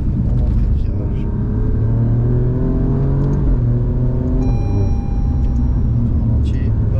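Race car on a circuit in the Emirates accelerating, its engine rising in pitch through the gears with a steady loud rumble and revs, someone talking over it from inside the car.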